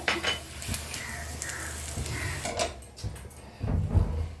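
Cashews and melon seeds being stirred in a pan, with soft scraping and light clinks of a utensil against metal, a low sizzle underneath, and a louder knock of cookware near the end.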